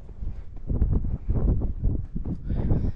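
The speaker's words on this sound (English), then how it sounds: "It's actually windier today than I thought it was gonna be." Steady wind buffets the microphone in gusty low rumbles, loud and close throughout with no talking.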